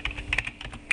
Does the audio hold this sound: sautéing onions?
no